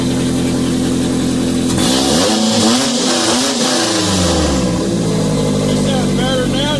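A front-wheel-drive UCar race car engine, just fitted with a new relay, runs loud and close, steady at first and then revving up and falling back. A voice talks over it.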